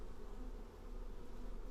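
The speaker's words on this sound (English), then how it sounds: "The beehive is still humming quietly." Bees in a beehive give off a low, steady buzzing hum that fills the space quietly and continuously, with no voices.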